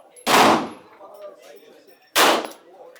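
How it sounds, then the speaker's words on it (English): Two loud, sharp gunshots ring out at an indoor gun range about two seconds apart, each a booming blast with a short decaying tail, heard close with no talk over them. "Make sure you don't lower it down as you squeeze that trigger"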